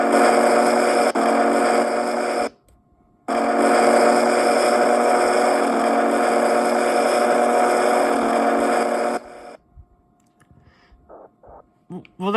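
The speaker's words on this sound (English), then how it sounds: "I'm gonna give you a listen to the whistle of this engine" Big Boy steam locomotive whistle in the Trainz 2 railway simulator game, a loud sustained chord blown twice, a short blast then a long one, with a few faint clicks after it stops.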